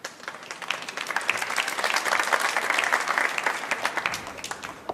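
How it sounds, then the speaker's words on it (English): Fans clapping in appreciation at a World Cup of Pool quarter-final match, a moderately loud patter of individual claps that swells in the middle and thins toward the end. "the fans clapping for the appreciation"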